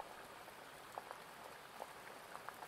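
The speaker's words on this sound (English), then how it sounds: "the greater sound of the rain hitting all of the surrounding" Rain falls on surrounding forest trees in a quiet, even patter, with a few slightly sharper drips standing out from the soft hiss at a distance.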